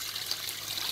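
Water trickles and pours in a home kitchen while eggs are prepared for egg curry, a faint, brief, steady splashing.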